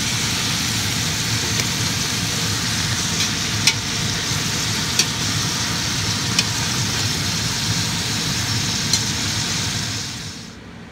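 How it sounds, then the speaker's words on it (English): Carrots and potatoes sauté together for beef stew, a continuous steady sizzle with a few faint clicks and scrapes of stirring, fading away at the end. "carrots, our potatoes, and saute everything in together."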